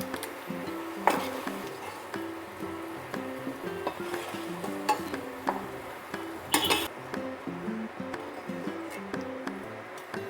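Fried potatoes scooped from hot oil in a pan into a bowl for a wedding-style alu kumror chokka, with steady sizzling under repeated metal clinks and scrapes of a spoon against the pan and bowl, close and fairly loud.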